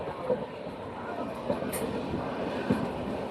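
A train runs along the Kulitturai to Nagercoil rail line, producing a steady, fairly loud rolling rumble with a few brief knocks and clanks throughout.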